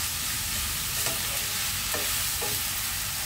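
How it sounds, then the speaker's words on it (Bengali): Onions sizzle steadily in a hot pan for a Bengali Bombay duck dish, with a few distinct scraping stirs of a spatula cutting through the constant frying hiss. "এবার পেঁয়াজগুলো ভেজে নিতে হবে যতক্ষণ না পেঁয়াজগুলো লাল হয়ে আসছে।"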